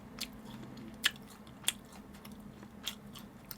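Crispy fried sushi is bitten and chewed close to the mic, giving a few sharp crunchy bites spaced out over quiet, faint mouth sounds, with no voices.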